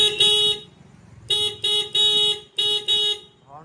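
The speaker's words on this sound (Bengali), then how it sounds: "আর হর্ন" Horn of a modified TVS XL electric bike, five short loud electronic honks with a bright buzzy tone, sounded one after another close by, with no talking.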